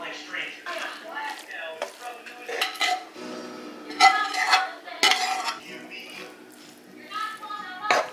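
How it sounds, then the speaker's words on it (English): Seasoned food tossed with tongs in a metal bowl or pan, close clinks, scrapes and shuffling in an uneven rhythm, with a voice talking over much of it. "we're gonna take tongs and we're just going to mix it all together thoroughly"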